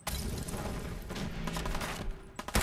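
Molotov cocktail thrown in Fallout 4, bursting into a loud, dense crackle of fiery impacts and gunfire-like bangs that runs almost continuously, with a few sharper cracks toward the end.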